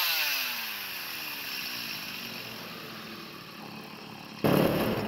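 A Stihl MS170C chainsaw with a 37 cylinder runs up close. Its engine note slides down from a high rev toward idle, then snaps back into a loud, sharp rev near the end, with no voices.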